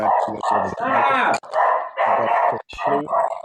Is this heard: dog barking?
yes